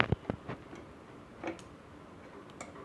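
Sharp little pops and crackles of mustard seeds in hot oil burst sporadically, a few quick ones at the start then scattered pops, faint and close against a quiet background.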